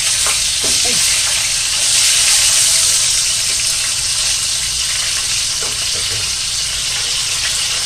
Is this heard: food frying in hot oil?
yes